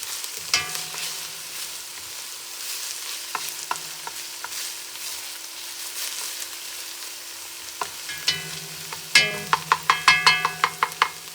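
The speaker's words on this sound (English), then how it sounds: "So we're going to let these cook until they're translucent." Onions frying in a pan for a vegan vodka sauce, a steady bright sizzle broken by occasional stirring scrapes, close, ending in a quick run of sharp scraping and clinking strokes.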